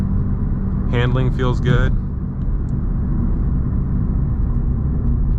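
A 2024 BMW M240i drives with a steady low engine rumble and road noise throughout, smooth and even, while someone talks briefly over it near the start.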